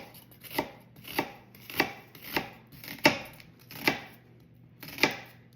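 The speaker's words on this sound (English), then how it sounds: "Then we're just gonna chop this." Knife chopping an onion on a cutting board, about nine evenly spaced crisp thunks close up, with quiet gaps between strokes and no voices.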